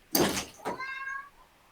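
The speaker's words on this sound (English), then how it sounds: "He found a cat." A cat gives two quick meows, the second drawn out and rising in pitch, close and fairly quiet against a silent background with no talk.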